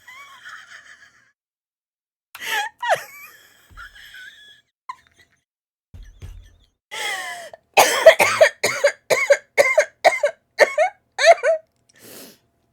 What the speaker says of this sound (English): I was already kind of coughing because I'm a little under the weather